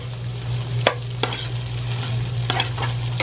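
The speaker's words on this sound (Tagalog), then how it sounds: "Halo lang ng halo." Onions frying in a pan are stirred with a few sharp utensil scrapes against the metal, over a steady sizzle and a low constant hum, with no voices.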